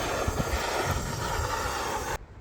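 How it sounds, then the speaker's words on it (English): An electric spray gun's blower, taped into a homemade foundry, runs with a steady, loud, broadband whoosh and drone close by, then cuts off abruptly near the end. "It's a blower from an electric spray gun and it works brilliant."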